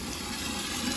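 Water gushes steadily from a hose into a large soup pot, a continuous loud rushing fill with no talking.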